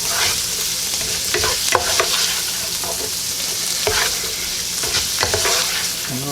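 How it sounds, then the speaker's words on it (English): Green beans with garlic sizzle steadily in a hot pan, a continuous loud frying hiss broken by several sharp stirring scrapes and clanks, with no voices. "I'm going to let these green beans cook"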